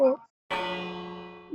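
A single bell rings once with a bright metallic strike and a sustained ringing tone that hangs for about a second, close and clear, with brief speech just before and after.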